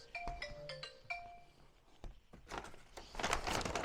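A phone ringtone plays a short repeating melodic pattern of clear tones indoors, followed by rustling and handling noise as the call comes in.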